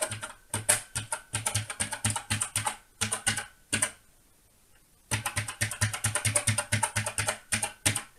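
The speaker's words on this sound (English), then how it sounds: "I'm going to try pushing these keys one by one and see what I get." Keys on an Acorn Electron computer keyboard with a fault are pressed one at a time, giving a steady run of sharp clicks. The clicks break off for about a second of quiet, then resume at a quicker pace.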